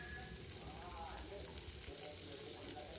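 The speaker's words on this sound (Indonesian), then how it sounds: "Lalu saya akan tumis juga untuk udangnya. Sama untuk udang juga saya hanya menggunakan sedikit minyak ya untuk menumis." Shrimp sautéing in a little oil in a home kitchen, a dense, even sizzle running loud and close throughout with no clear breaks.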